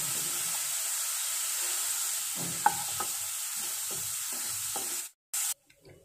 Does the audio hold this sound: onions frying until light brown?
yes